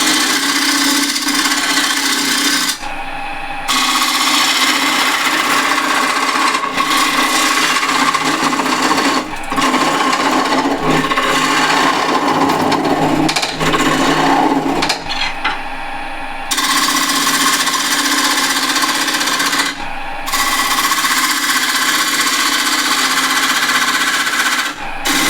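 A Continental spindle gouge rough-shaping a dry chestnut piece spinning on a wood lathe, a loud continuous rasping cut broken by several brief pauses, with no talking.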